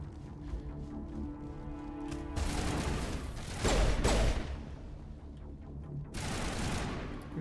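Bursts of rapid gunfire in the Mass Effect video game on Eden Prime, sustained volleys starting abruptly and returning after a short pause, loud and close with mechanical clatter between.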